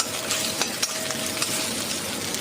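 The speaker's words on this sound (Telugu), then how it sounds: "ఇందులో ఆవాలు, జీలకర్ర, ధనియాలు, కరివేపాకు, పచ్చిమిర్చి అన్నీ వేసుకొని అల్లం వెల్లుల్లి పేస్ట్ వేసుకొని వీటిని ఫ్రై చేస్తున్నాను నేను" Mustard seeds, cumin, coriander seeds, curry leaves, green chillies and ginger garlic paste fry in hot oil for tomato upma, a close sizzle broken by a few sharp spoon taps and stirring clinks.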